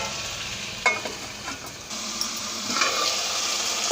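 Mushrooms coated with salt and chili powder are stirred in a pan, a continuous hissing sizzle with scraping stirring strokes and a few sharper clatters, close and fairly loud, with no voices.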